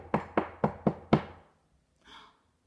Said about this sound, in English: It was a knock at the door again.